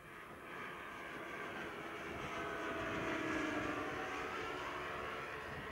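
Large model airliner built as a 50-seat scale replica, powered by two Laser 120B four-stroke engines, flying past at a model aircraft display at Woodvale; a steady, sustained engine drone that swells slightly as it passes, with no talk.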